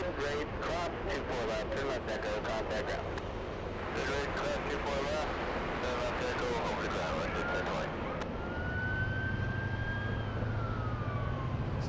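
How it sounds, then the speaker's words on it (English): Emergency sirens wailing near an airport, a rising and falling tone in the middle distance under steady background noise and a talking voice. "hearing a lot of sirens."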